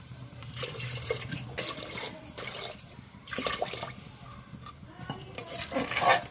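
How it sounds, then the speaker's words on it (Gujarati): Water pours and splashes into a pot of broken rice for khichdi in several bursts, with stirring sounds between them, close by and moderately quiet. "એની અંદર આપણે 5 ગ્લાસ પાણી એડ કરી દઈશું"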